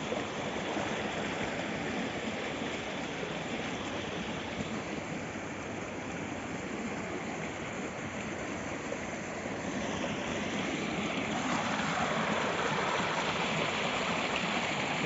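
Water flows continuously into a planted rice field, an even near-field gurgling rush that brightens slightly in the last few seconds.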